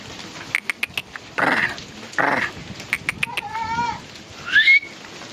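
Several goats bleat in short bursts, with sharp clicks and a bird-like chirp between them, fairly close in an otherwise quiet outdoor setting.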